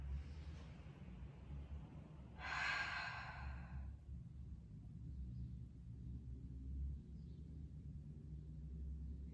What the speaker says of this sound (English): Inhale through the nose. Exhale, let's take the exhale through the mouth this time.